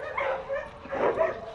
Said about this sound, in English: They're all good dogs.